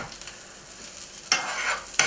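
Rice frying in a pan while a pollack curry is being cooked, a soft steady sizzle broken by two louder scraping bursts of stirring near the end.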